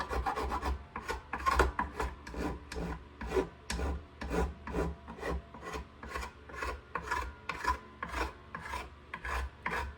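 A hand file rasps across metal frets on a cigar box guitar in steady back-and-forth strokes, about two per second, close and fairly quiet, with no voices.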